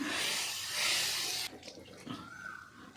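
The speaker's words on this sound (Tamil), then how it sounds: "இப்போ கொஞ்சமாக தண்ணியை ஊற்றி கல்லை சு கொஞ்சம் கூழ்படுத்திக்கலாம்" A little water is poured onto a dosa griddle in a kitchen, a soft close splashing stream that stops halfway through, followed by faint trickling and low handling noises.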